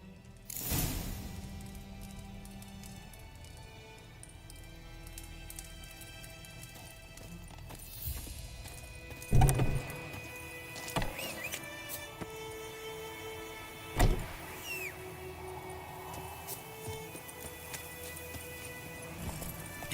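In Resident Evil 4 Remake, horse hooves clip-clop at a steady walking rhythm, moderately close, over quiet ambient game sound, with a few sharper thuds and clatters breaking through.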